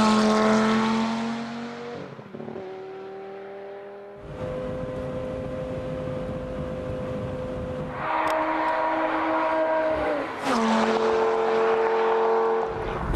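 A Lamborghini Gallardo Spyder's V10 engine pulls hard in third gear, a loud, close, rising tonal roar that climbs in pitch, dips briefly at shifts and surges again.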